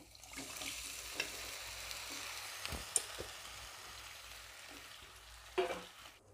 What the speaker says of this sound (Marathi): आता आपण ह्याच्यामध्ये उकडलेले देठ टाकून घेणार आहोत